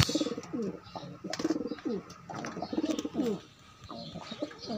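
Pigeons coo repeatedly as they are released, soft rhythmic throaty calls close by, overlapping in short bursts with faint chirps and light background noise.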